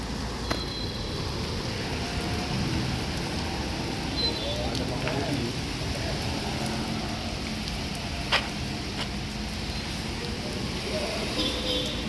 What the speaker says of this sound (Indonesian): Cuaca kondisi lagi hujan.